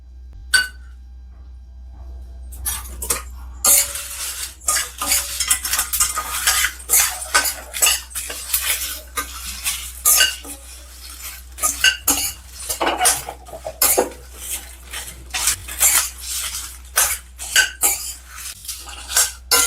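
Spices, including fennel seeds, dry roasted in a pan for Kitchen King masala, a spoon scraping and clinking against the metal pan in busy irregular bursts, close and fairly loud over a low steady hum, with no talk.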